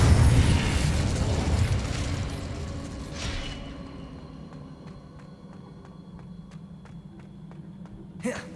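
The Incendio fire spell is cast in Hogwarts Legacy: a loud, roaring burst of flame at the start, then a crackling, whooshing tail that fades over a few seconds into quiet ambience, with a brief sharp sound near the end.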